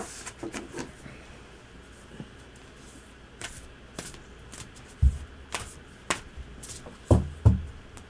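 Tarot cards shuffled by hand at close range, with a series of crisp riffling bursts and soft slaps of the deck, some sharper knocks near the end, no talking.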